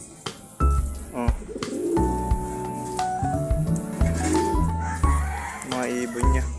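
Red bar pigeons coo repeatedly nearby, soft throaty calls with a few chirps, under continuous talking from a person close by.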